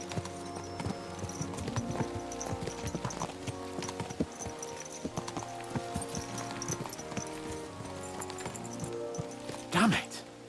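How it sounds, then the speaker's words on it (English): Horses clip-clop steadily at a brisk pace in Kingdom Come: Deliverance 2, their hoofbeats mixed with game music and a louder jolt near the end, while a voice talks over them. "Let's really spur these horses on, eh?"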